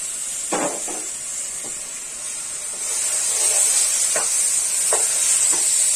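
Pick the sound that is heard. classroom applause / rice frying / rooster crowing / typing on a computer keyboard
rice frying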